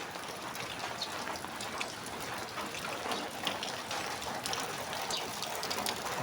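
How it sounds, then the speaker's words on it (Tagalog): Steady rain pours down, a dense continuous hiss with scattered drops pattering on a surface nearby, no voices. "parang lakas-lakas na yung ulan"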